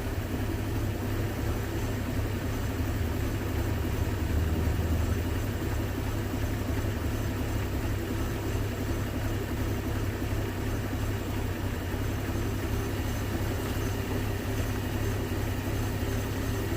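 A carbureted 1981 Ford Mustang engine idles steadily at low volume, a constant low rumble with no change in pace and no talk over it.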